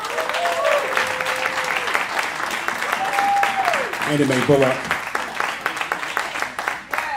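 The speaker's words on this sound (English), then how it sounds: "Let's give a round of applause for the life of Tina Turner." An audience at an open mic jam applauds in tribute to Tina Turner, a sustained wash of clapping and cheering that runs under someone speaking.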